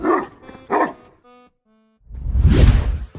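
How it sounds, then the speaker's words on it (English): A large dog lets out two deep, loud barks at close range, followed by brief whimpering tones and then a heavy, rough bark or growl. "they won't hesitate to show off their intimidating and powerful bark"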